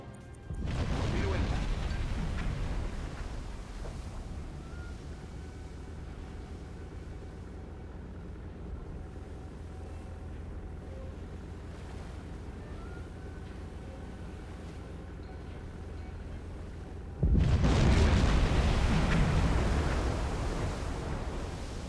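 Torpedo hits explode against a ship in the submarine game Silent Hunter 4. A heavy, rumbling boom opens the stretch and decays into a long, low wash, and a second loud blast strikes near the end.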